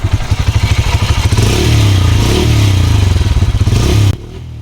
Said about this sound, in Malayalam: ഇനി പെട്രോൾ മോഡിലോട്ട് ആക്കിയിട്ട് പെട്രോൾ മോഡിലെ സൗണ്ട് കേൾപ്പിച്ചു തരാം